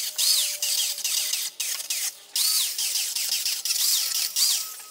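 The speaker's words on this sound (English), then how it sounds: "So what I did to undo those is grab our good old flap wheel here," A power tool spins a flap wheel against melted plastic studs on a car door panel, giving a high, gritty grinding whine in repeated close bursts with short pauses between passes.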